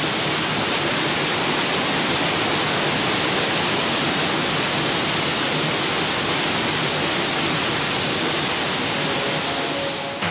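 Water roaring out of the hollow-jet valve at the Nangbéto dam in Togo, a loud, unbroken broadband rush of spray and torrent that holds steady for the whole stretch with no voices.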